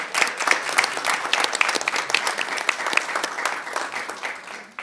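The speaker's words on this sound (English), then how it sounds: "Another round of applause for the presenters today." An audience at a university pitch competition in a rotunda claps steadily for several seconds, a dense, even patter of many hands filling the room without letting up.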